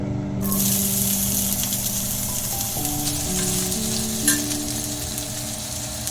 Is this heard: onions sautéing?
yes